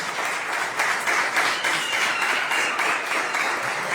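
Church congregation at a religious congress applauding, a steady moderate wash of clapping that pulses slightly, heard from some distance in a large hall, with no talk over it.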